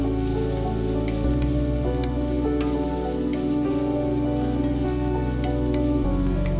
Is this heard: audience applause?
no